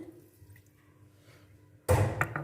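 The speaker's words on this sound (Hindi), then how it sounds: "थोड़ा सा पानी ऐड कर देते हैं" A little water is poured into leftover cooked rice mixed with gram flour and coriander powder for rice kababs. It comes as a short, close splash near the end, after a quiet kitchen lull.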